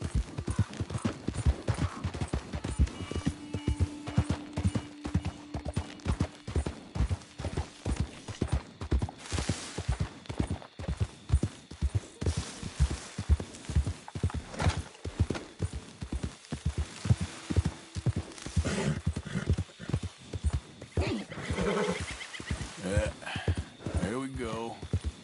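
Horse hoofbeats in Red Dead Redemption 2, a quick steady galloping clip-clop running throughout with a brief neigh, while a person talks intermittently over it.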